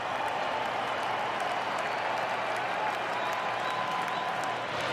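A dense stadium crowd roars and claps without a break at an NLCS playoff game between the Dodgers and Brewers, urging on a young pitcher, with a sharp spike at the very end.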